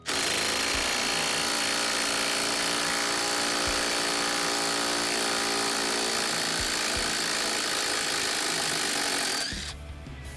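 A TECCPO 20V cordless impact driver hammers loudly and continuously as it backs a screw out of wood, a steady rattling buzz that cuts off abruptly near the end.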